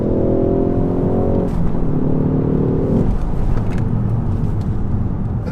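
A Ford car accelerates hard down a straight, its engine note climbing through gears with a shift partway, loud and close with strong road and wind roar.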